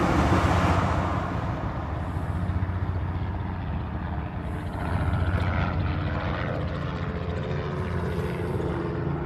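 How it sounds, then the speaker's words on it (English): Steady, loud jet engine roar from a DHL Boeing 777 at the Honolulu airport reef runway, a broad continuous rumble that swells slightly midway. "The next departure on the reef runway will be that DHL 777."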